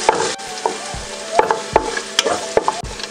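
Garlic sautéing in hot cooking oil, a crackling sizzle broken by repeated spatula stirs and scrapes at an uneven rhythm, close and fairly loud.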